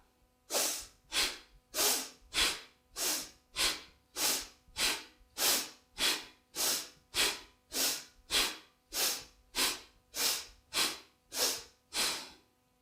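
Rapid bhastrika bellows breathing, a yoga breathing exercise: a steady train of about twenty forceful, evenly spaced breaths roughly one every half second, loud and close, with no talking.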